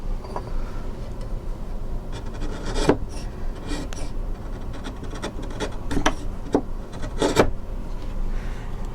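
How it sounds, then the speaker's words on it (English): A freshly sharpened chisel pares thin shavings from cherry wood, making soft close rasping strokes with a few sharper scraping bursts over a low background hum. "That takes some nice clean cherry shavings off there as well."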